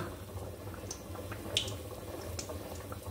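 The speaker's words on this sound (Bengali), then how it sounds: "এই যে আমি লাউয়ের চপগুলো ভেজে নিচ্ছি এইভাবেই" Bottle gourd fritters frying gently in oil over low heat: a soft, faint bubbling and crackle with scattered tiny pops, quiet and continuous.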